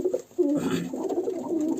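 Pigeons kept in a loft with young birds, cooing in low, soft, rolling calls that continue steadily and fairly close throughout.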